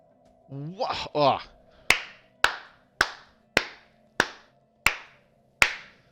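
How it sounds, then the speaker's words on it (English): Seven sharp hand claps that sound distorted, spaced evenly and close after a short vocal exclamation. "That was me clapping, by the way. It probably sounded horribly distorted."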